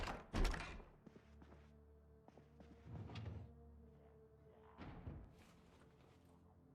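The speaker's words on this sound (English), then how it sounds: "I could definitely hear zombies banging" Zombies in Project Zomboid bang on a garage, heard as faint, scattered dull thuds and knocks at uneven intervals over a low background rumble, somewhat distant.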